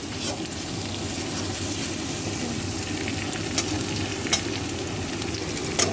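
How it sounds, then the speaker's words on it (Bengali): Chopped garlic and ginger sizzle in a pan with onions as a vegetable momo filling is stirred, a steady frying crackle with a few sharp utensil clicks near the end. "তারপর রসুন, আদা কুচি দিয়ে ভালো করে নাড়াচাড়া করতে হবে।"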